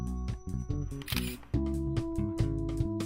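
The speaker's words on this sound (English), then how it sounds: "press the shutter to take the picture" A Nikon D200 digital SLR camera fires its shutter, giving a quick series of sharp mechanical clicks over a faint, steady tonal background.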